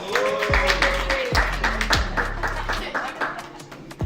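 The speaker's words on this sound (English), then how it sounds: "Give the CFO a round of applause." Clapping from an audience at a business program event, fairly close, with low thumps and tonal background sounds mixed in and some speech-like activity over it.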